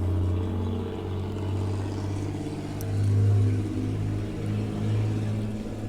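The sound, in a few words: tractor driving in first gear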